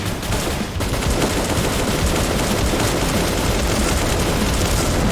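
Rapid gunfire in the shooter Bullet Angel rattles continuously as dense, loud bursts of automatic shots that fill the whole stretch without a pause.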